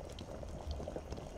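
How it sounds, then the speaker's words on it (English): Liquid boiling in a brewing pot in the brewery game Brew Pub Simulator, a steady bubbling and hissing simmer that holds close and even throughout, with no talk over it. "We're gonna bring it to a boil."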